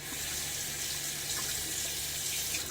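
Tap water runs steadily into a sink for rinsing during a shave, a close, even hiss without pauses or voices.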